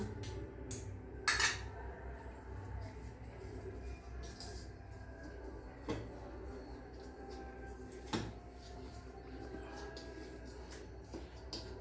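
A knife finely chopping garlic on a board for garlic butter in a home kitchen, heard as a few sharp, scattered taps and clicks over a quiet room hum.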